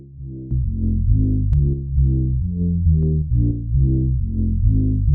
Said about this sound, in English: just pumping up a little bit of EQ here to accentuate some of these mid-range frequencies